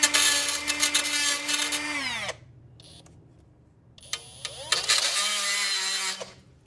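A high-pitched power tool whines loudly while cutting a rusted bolt on a 1968 Cutlass, winding down after about two seconds, pausing briefly, then spinning back up for another burst of cutting.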